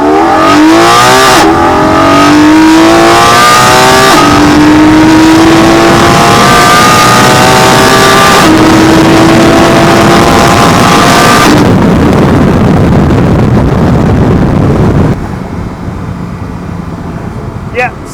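A car engine fitted with an aftermarket air filter revs hard and accelerates through several gears, loud and close with wind noise, rising whines and shift breaks.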